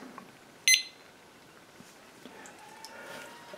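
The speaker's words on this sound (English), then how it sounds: "Start the timer again." A kitchen timer gives one short, sharp beep as it is started during Gouda cheese making, then a quiet room follows.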